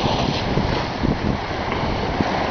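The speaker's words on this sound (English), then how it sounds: "Wind's blowing probably up around 18 knots." Wind at around 18 knots blowing over a sailing yacht on a solo circumnavigation, a loud steady rush buffeting the microphone with no voices.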